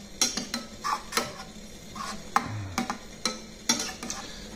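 Chicken ravioli stirred in a pan with a spoon or spatula, giving a series of irregular scraping and clinking strokes about once a second over a faint sizzle, close and fairly quiet with no talking.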